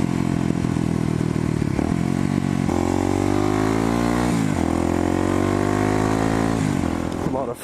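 A Kawasaki Ninja 400 sport motorcycle engine drones loudly nearby, its pitch rising and falling as it revs and then eases off into engine braking, with wind and rattling underneath.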